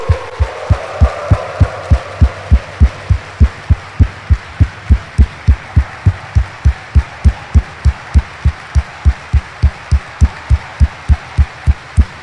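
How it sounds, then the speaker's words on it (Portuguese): A congregation at Sunday Mass claps in unison: loud, even, regular beats at a brisk steady tempo, continuing for over ten seconds. "Então dê uma salva de palmas"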